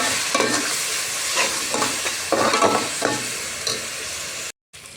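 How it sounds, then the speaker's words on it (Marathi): Tomato paste sautéing in a pan for Kolhapuri misal, a loud continuous sizzle with repeated soft scraping stir strokes near the start, then a brief cut to silence near the end. "1 वाटी टॉमॅटोची पेस्ट केलेली होती आपण, ती आता ॲड करणार आहे. आणि चांगली परतून घ्यायची आहे ती छान असं."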